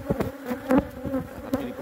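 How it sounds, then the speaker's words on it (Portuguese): A highly defensive honeybee swarm inside a house gives off a steady, dense buzz, with individual bees darting close past the listener in brief louder passes. "Tá perigosa essa abelha aqui que tá na casa."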